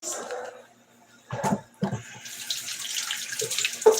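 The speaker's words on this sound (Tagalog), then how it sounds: "Pagbugas muna ako ng kamay" Tap water runs into a kitchen sink for hand washing, a steady broadband hiss after a few brief splashy bursts, fairly close and moderately loud with no talking over it.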